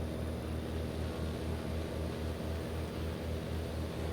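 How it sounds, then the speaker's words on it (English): A steady, droning piston engine of a Socata TB-30 in Microsoft Flight Simulator 2020 hums evenly and quietly at constant power, with no talk. "Engine sounds very nice, actually."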